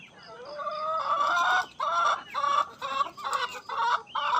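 Chickens on a small backyard farm cluck and squawk in a steady series of loud, close calls, with one bird's cry rising like a short crow among the flock.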